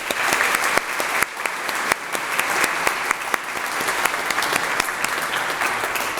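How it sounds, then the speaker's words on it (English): Sustained applause from an audience at a county State of the County Address, dense and even with sharp individual claps standing out, continuing strongly for several seconds. "please join me in a round of applause for this fantastic group of supporters"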